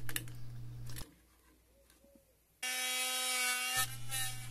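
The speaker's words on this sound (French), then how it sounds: "Je découpe donc la façade." A front panel of an electronics enclosure for a mini Arduino greenhouse is cut with a tool. It gives a short rasping stretch, then a quiet pause, then a loud, steady buzzing cut lasting about a second, close up with no voices.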